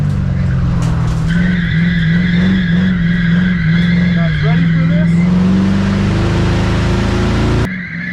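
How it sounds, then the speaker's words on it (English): A Crown Victoria race car skids loudly on an asphalt track as its left front brake locks up, a steady engine drone under a long tire scrub that stops abruptly near the end. "I wonder why the brakes are locking up now."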